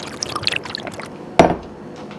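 Water pouring into a glass, a short splashing burst heard close up, with no one speaking.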